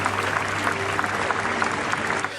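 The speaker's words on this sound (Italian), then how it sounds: "Applausi all'arrivo e all'uscita delle bare di Andrea Miceli, Salvatore Turdo e Massimo" A crowd at a funeral in Sicily applauds steadily as the coffins arrive and leave, dense clapping sustained throughout the short clip.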